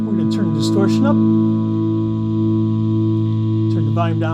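An electric guitar runs through a JHS Pack Rat distortion pedal with the distortion turned up, a held, buzzy, saturated chord ringing steadily while someone talks briefly at the start and end.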